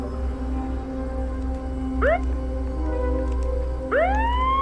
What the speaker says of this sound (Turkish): siren sesi